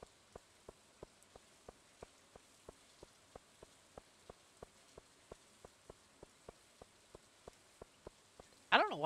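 Steady rain falls in the farming game Stardew Valley, an even patter of regular soft ticks repeating about every third of a second, quiet and continuous, with a brief louder burst at the very end.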